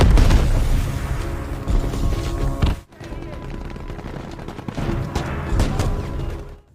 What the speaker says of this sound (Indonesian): Setelah tembakan asap dilepaskan ke udara, mereka pun mulai beraksi.